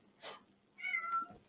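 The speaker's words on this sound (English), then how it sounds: "I hear the kitty cat" A domestic cat meows twice in a kitchen, a short call followed by a longer drawn-out one, fairly close and moderately loud over a quiet background hum.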